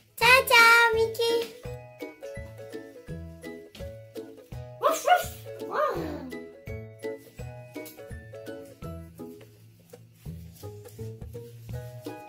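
Toy puppies yapping in short electronic barks with a tinkling jingle, a rapid rhythmic series of close, fairly loud yips over a repeating toy melody.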